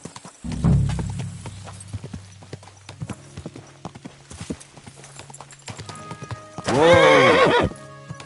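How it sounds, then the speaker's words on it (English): A horse in the medieval game Kingdom Come Deliverance 2 stamps and clops its hooves in scattered steps, then lets out a loud, close, shrill whinny near the end. "This horse must have cost a pretty groschen."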